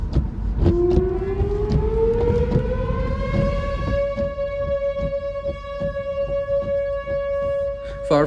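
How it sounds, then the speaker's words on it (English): A tornado warning siren near Amarillo, Texas winds up slowly from low to a high steady wail, loud and sustained, with a rumbling background throughout. "Far from the first time that I had heard tornado sirens ever, but that one really stuck out to me."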